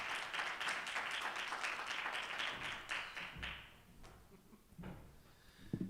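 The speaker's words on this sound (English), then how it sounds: "give him a round of applause" Audience applause at a medical patient education day on neuroendocrine tumors, moderate and steady for several seconds before tapering off into sparse claps and faint room noise.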